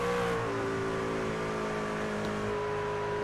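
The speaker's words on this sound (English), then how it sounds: "you can hear just how much quicker Devin's able to get back to the throttle" Race truck engine in the iRacing video game revving hard on throttle at Dover, a steady loud drone with rising harmonic whine, no voices.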